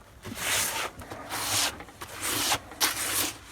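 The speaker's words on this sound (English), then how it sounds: "use your hand to scrape any mix off the upper side of the drum" A hand scrapes hempcrete mix off the upper side of a stopped Belle mixer drum in repeated rough, gritty strokes, close and steady, with short pauses between passes and no speech.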